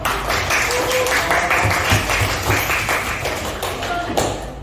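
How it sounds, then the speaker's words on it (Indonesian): Classroom applause for a student group about to present, a loud, close, uneven patter of clapping hands mixed with tapping and thumping sounds, continuing for a few seconds. "Beri tepuk tangan untuk kelompok 5."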